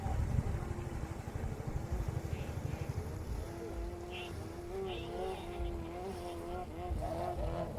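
A 5K racing boat engine whines and drones at an outdoor boat race at Wat Bang Phriang where a crash occurs, with the pitch wavering and rising while a voice talks over it.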